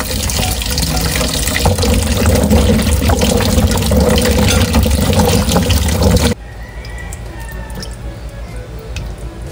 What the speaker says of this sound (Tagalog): huhugasan ko po muna itong mga kamyas